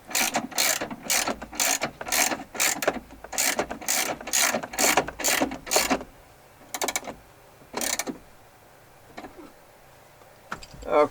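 A ratchet tightens bolts on a 2006 Jeep Wrangler TJ dash during replacement, with bursts of rapid clicking pawl strokes for about six seconds, then a few short isolated clicks after pauses, close and loud.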